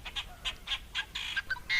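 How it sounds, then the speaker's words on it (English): Canada geese honk repeatedly at a wetland where goslings are present, a run of short nasal calls in uneven bursts at moderate distance, with no talk. "And lots of baby Canada geese."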